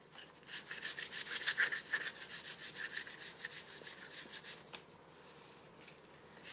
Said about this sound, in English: And I'm going to just sand it smooth.